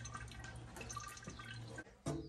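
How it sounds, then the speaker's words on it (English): Motor oil drips and runs from a loosened oil filter under a 2023 Corvette C8 convertible during an oil change, a steady close trickle with a brief clatter near the end. "We'll crack it open and let it drip down a little bit."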